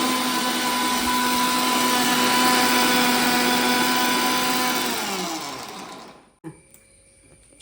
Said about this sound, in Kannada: ಮಿಕ್ಸಿಯಲ್ಲಿ ಸಹ ಕಡಿಬಹುದು.